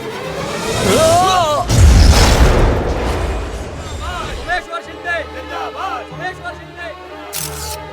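Bomb blast under a stage in a film scene: a deep, rolling explosion booms for several seconds after frantic shouting, then fades into murmuring voices and scattered noises.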